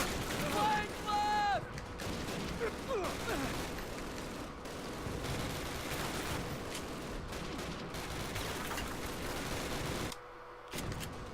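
Dense gunfire from Call of Duty Classic on the PS3, a steady stream of shots and blasts running nearly the whole time, dropping away briefly near the end, with a voice talking over it.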